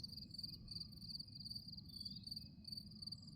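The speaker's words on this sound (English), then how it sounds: "there's tons of crickets" Steady, dense cricket chirping fills the scene, a continuous high trilling chorus over a low background rumble, with no voices.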